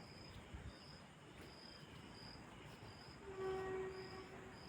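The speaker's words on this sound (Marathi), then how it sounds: "ट्रेनचा आवाज आला वाटतं." A faint, distant train rumbles past under a steady background of chirping insects, with a brief tonal horn-like swell near the end.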